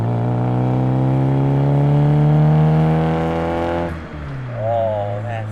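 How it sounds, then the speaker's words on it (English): A John Cooper Works Mini with a DTM side exit exhaust revs hard, its loud engine note rising and sustaining before dropping off and climbing again, with a voice briefly over it. "does that John Cooper Works DTM side exit exhaust sound good or what?"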